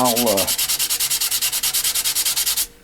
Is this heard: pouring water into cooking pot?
no